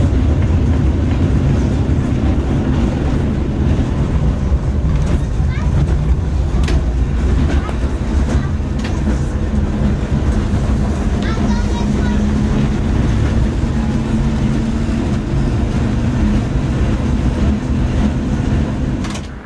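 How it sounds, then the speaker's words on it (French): A historic tram rolls along its rails, a loud continuous rumble of wheels and car body with faint rhythmic clatter throughout, steady and close. "Quand on roule avec le tram historique"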